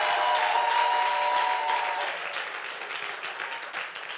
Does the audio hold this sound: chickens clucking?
no